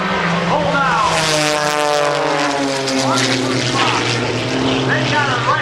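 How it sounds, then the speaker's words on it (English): Shockwave Jet Truck firing up at an air show, its jet engines spooling into a loud, sustained roar with rising whines, near and continuous while an announcer talks over it. "And now we hear yet another member of the Tinstix of Dynamite firing up. It's the Shockwave Jet Truck."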